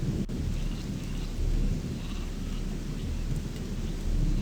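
Rain and rumbling thunder in the video game Gothic 2 Night of the Raven, a constant low roar of rainfall with deep swelling rolls of thunder and no talking.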